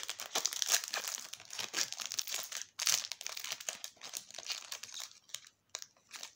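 Crinkly foil wrapper of a Yu-Gi-Oh Speed Duel Scars of Battle booster pack being worked open, continuous close crackling and crumpling with small tearing bursts, quiet and unbroken for several seconds.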